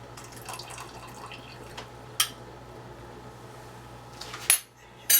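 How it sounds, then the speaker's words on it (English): A spoon presses tea bags against the side of a pot of water while southern sweet tea is made; soft watery sloshing is broken by a few sharp, brief clinks of metal on the pot. "Try to mash that out with the back of the spoon without busting the bag."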